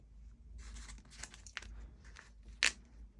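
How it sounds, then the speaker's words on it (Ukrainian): Quiet crinkling and rustling of a paper sweet pepper seed packet, ending in one sharp, bright tearing rip close by. "тепер Відкриваю пакетик"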